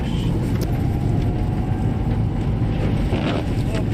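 A Renault Clio IV drives off-road through mud, its engine droning loud and steady alongside heavy wind buffeting and rumble from the rough ground, with no break.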